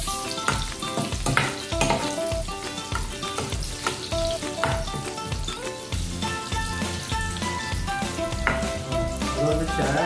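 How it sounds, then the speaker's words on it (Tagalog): Garlic browning in hot oil in a pan, a dense, loud continuous sizzle and crackle with frequent stirring scrapes throughout. "Pinapa-brown muna natin yung bawang."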